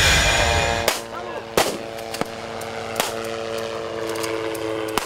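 Several sharp gunshot cracks from an exchange of fire between security forces and cornered criminals ring out at irregular intervals, each trailing off in echo over a constant hum, with no talking.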